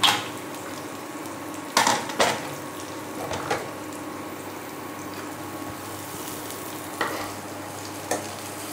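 Moong dal frying in a pan for Bengali lau dal, steady close sizzle broken by several sharp spoon-against-pan stirring knocks and scrapes at irregular intervals.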